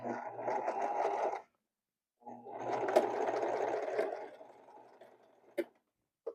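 A sewing machine stitches a denim hem in two close, buzzing runs separated by a short pause, followed by a couple of sharp clicks as it stops.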